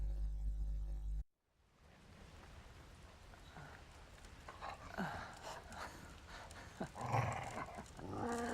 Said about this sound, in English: one of the few games where you legit play as a dog